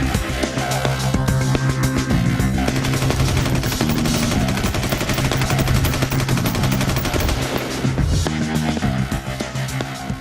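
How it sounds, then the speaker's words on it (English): A rifle that was buried in sand, with sand in the barrel, fires a rapid string of loud gunshots in quick succession on a firing range, mixed with background music. "A simple shake, and boom, I was right down range firing rounds."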